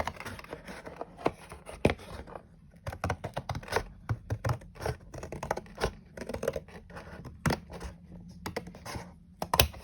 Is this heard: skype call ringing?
no